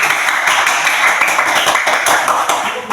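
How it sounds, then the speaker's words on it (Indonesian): A classroom of students clapping together on a teacher's cue, a dense, bright, continuous patter of hands that stays loud throughout and fades slightly at the close. "berikan tepuk tangan dulu"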